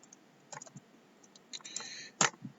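A few sharp, light clicks from a computer mouse come in quick clusters at close range, spaced irregularly with quiet gaps between them.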